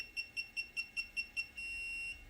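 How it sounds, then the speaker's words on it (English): A MobileX portable X-ray generator gives a series of eight short, evenly spaced electronic warning beeps before firing, then a steady sustained tone, fairly quiet with no talking. "you'll get these audible beeps, and that tells you that it's preparing to fire"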